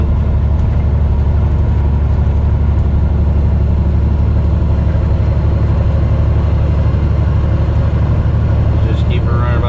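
Truck engine pushing into a hill at about 60 mph, a steady, loud, low droning engine and road noise running continuously with talk over it.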